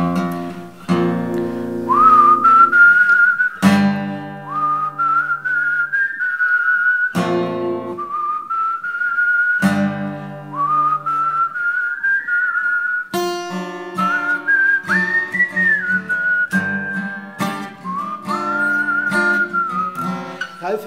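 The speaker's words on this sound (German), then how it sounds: "Also der Anfang wird gepfiffen." Someone whistles the opening melody of a song at a church wedding ceremony: clear, loud, sustained tuneful phrases with sliding pitches, broken by short pauses between the phrases and heard alone, with no talk.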